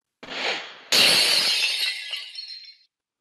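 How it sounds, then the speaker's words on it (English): Glass crashes and shatters as a framed picture is knocked from a wall by a rush of air, a short clatter followed by a louder, bright burst of breaking glass that rings and tinkles away over a couple of seconds, close and alone. "whipped a picture from the wall with a crash of glass"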